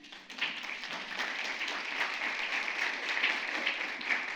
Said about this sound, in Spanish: Otro aplauso para Luis Miguel